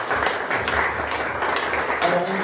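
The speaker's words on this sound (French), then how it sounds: "on les applaudit s'il vous plaît" Steady applause from an audience at a French press conference for the Choc des étoiles 2024 fight event, a continuous wash of clapping at moderate volume with no pause.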